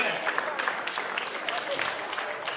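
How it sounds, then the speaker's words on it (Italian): An audience claps for the Santo Nicola choir of Ozieri at a Logudorese singing event, a fairly soft, scattered round of applause that continues for a couple of seconds. "Un applauso perché sono un po' timidi, hanno bisogno di incoraggiamento"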